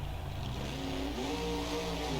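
A monster truck at a St. Louis freestyle event roars with loud, steady engine noise as it flies off a jump and lands on a row of crushed cars, with no talk over it.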